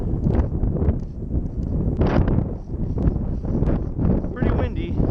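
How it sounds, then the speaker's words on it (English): Wind buffets the microphone at an RC flying field on a windy day, a loud low rumbling roar with gusty swells throughout and a few brief higher sounds mixed in. "Pretty windy."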